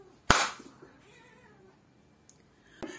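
A cat meows once loudly and close by, perched on a shoe cabinet in a room, followed by quiet and then a short sharp tap.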